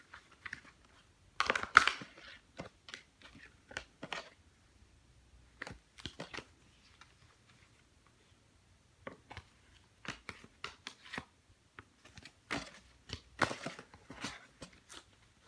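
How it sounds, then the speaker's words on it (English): Tarot cards shuffled by hand, giving bursts of crisp riffling and slapping that come in clusters with short pauses between, fairly close, with no voices. "I'm going to mix these cards up or shuffle them"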